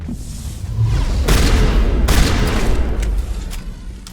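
Enemy gunfire in Mass Effect 1 Legendary Edition: loud, dense bursts of shots crackling and booming over a low rumble, with sharp volleys near 1.3 and 2.1 seconds and continuous firing throughout.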